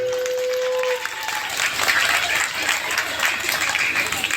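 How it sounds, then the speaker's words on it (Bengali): Audience applause at a Diwali fair welcoming ceremony, steady dense clapping from a crowd that fills the clip after a brief tonal note at the start, with some voices mixed in. "হাততালি দাও প্রত্যেকে।"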